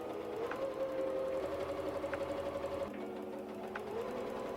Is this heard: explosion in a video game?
no